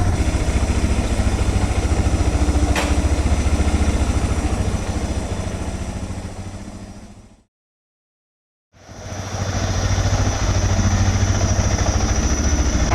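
Suzuki DR650 motorcycle engine idling after carburetor tuning, a steady close thumping idle that cuts out briefly mid-clip and then resumes at the same even pace.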